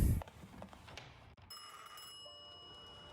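An old telephone rings in the video game The Thaumaturge, a single sustained bright bell tone ringing out clearly after a short thud, moderately loud against a quiet background.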